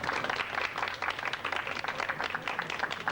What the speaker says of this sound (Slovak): Potlesk pre Jima.